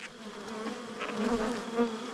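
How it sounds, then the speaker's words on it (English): A steady, dense buzzing of many honey bees around a hive, close by, rising and falling slightly with no voices. "I gotta shake the bees off with the lid."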